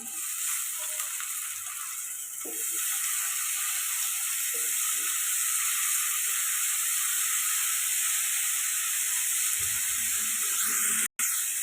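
Drumstick (moringa) pieces frying in a pan for a home curry, giving a steady, close sizzle with faint crackles and occasional stirring clinks, no voices.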